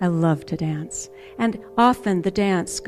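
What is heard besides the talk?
None of the usual background noises is heard.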